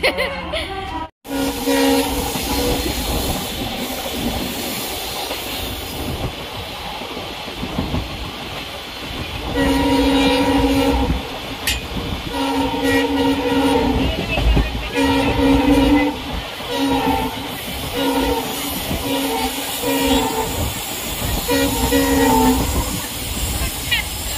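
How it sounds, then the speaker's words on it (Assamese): A passenger train at Rangiya station rolls in with steady rumble and clatter, and its horn sounds loud in repeated layered blasts over the middle section, with a sharp knock near the start. "আমি কামাখ্যা ট্ৰেইনত উঠিবলৈ ৰখিছো"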